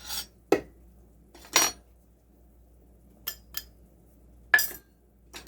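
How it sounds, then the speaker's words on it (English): A utensil clinks against a bowl while almond flour is mixed with egg in a home kitchen, giving a few sharp, separate clinks and scrapes with quiet gaps between them. "So I'm going to mix this up just a little bit."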